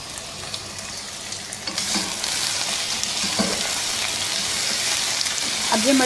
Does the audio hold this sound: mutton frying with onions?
yes